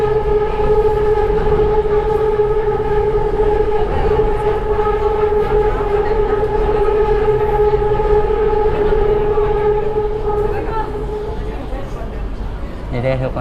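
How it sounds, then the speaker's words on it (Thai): BTS Skytrain in Bangkok, a steady loud electric hum and motor whine carrying through the whole ride, with a person talking over it and the tone easing slightly near the end. "นี่รถไฟฟ้า BTS นะทุกคน"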